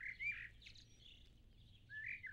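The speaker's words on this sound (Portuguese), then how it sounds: "havia uma trinca de passarinhos cantarolando na janela" A trio of small birds chirps and trills at a window, soft and a little distant, with brief bright calls at the start and end over a quiet, low background.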